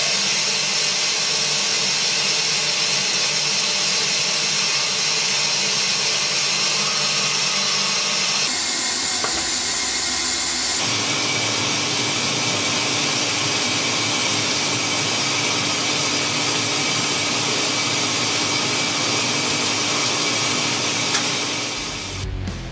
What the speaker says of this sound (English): let's take a look at this parting system in action